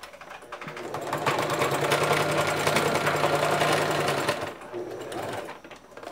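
A sewing machine stitches around the edge of a wire-framed bag, a close steady mechanical whirr that builds up, holds for a few seconds, then slows and stops.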